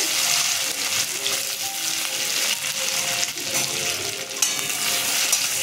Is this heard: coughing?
no